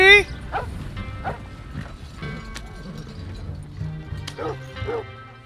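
A puppy barks and yips in Red Dead Redemption II, a few sharp close barks and whimpers over horse hooves clopping and wagon noise, with a voice speaking briefly.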